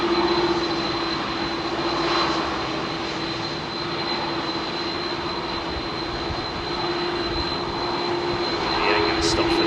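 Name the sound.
jet airliner engines on a rolling departure at Heathrow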